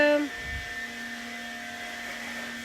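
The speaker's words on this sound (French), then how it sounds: "Désolée pour le bruit, c'est la machine qui lave le sol." A floor-scrubbing machine runs nearby in a shop, a steady mechanical hum droning on with a constant tone after a brief higher whine fades out.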